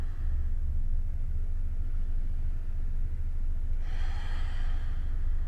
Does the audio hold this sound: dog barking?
no